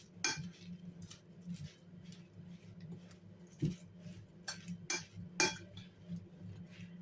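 Chinese cabbage salad being mixed in a bowl with a utensil, soft irregular clinks and scrapes against the dish with a few louder knocks, quiet and close, no speech.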